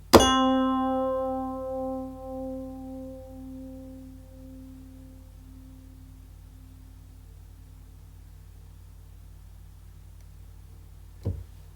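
A single FM synth electric piano tine note from a DX7 plug-in rings out, bell-like and bright, decaying slowly over several seconds, with a brief click near the end.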